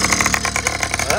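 A motorcycle engine runs close by, a loud steady idle with a rapid pulsing beat throughout the short stretch.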